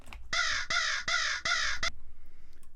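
Bird call sample used as an eagle source for a raw hardstyle screech: four loud, harsh, evenly spaced screeching calls in quick succession, each about a third of a second, then a short final note and quiet.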